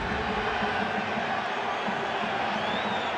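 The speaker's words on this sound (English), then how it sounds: "And the crowd starting to get a little frustrated now." Large football stadium crowd at a LOSC versus RC Strasbourg Alsace match, a steady far-off roar of murmuring and restless noise that stays level throughout, with a commentator talking over it.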